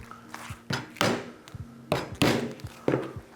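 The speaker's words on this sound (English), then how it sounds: "Dowels into the dowel holes." Wooden dowels knocked into the dowel holes of a blind corner base cabinet, a run of about eight sharp wooden thunks and taps in uneven bursts, close and fairly loud with no voices.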